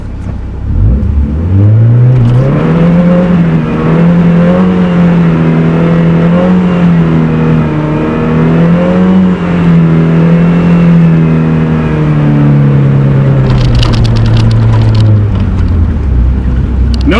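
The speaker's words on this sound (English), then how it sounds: "we're gonna do a tiny little burnout." A Mazda Miata on a wet surface revs hard for a short burnout, the engine loud and close, climbing, holding a droning high note with small wavers, then dropping away near the end.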